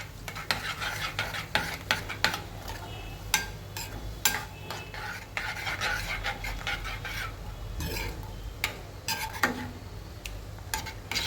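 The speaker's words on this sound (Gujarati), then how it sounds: "દહીં ઉમેર્યા પછી આનું બરાબર મિક્સ કરી દઈશું." A spoon stirs yogurt curry in a pan with the gas switched off, giving repeated scraping clinks against metal over a soft sizzle. The stirring is close and irregular, with no talk.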